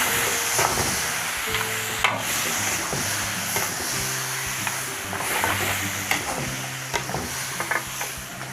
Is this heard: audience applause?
no